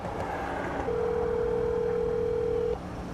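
A steady, single-pitched telephone tone sounds for about two seconds on an outgoing call, clear and close over a faint room hum.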